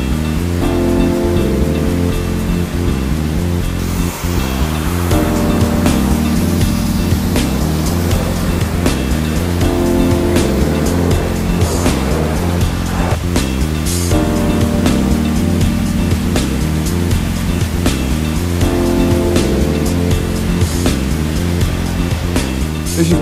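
Pressure washer spraying water over a car during a detailing wash, a loud continuous hissing rush with steady motor drone, sustained throughout with slight surges and no talking.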